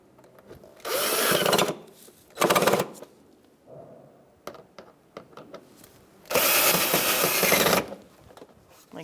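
A cordless power tool whirs in bursts, driving screws while a windshield washer reservoir is fitted on a 2002-2006 Honda CR-V; three loud runs of the motor, separated by quieter clicks and handling noises.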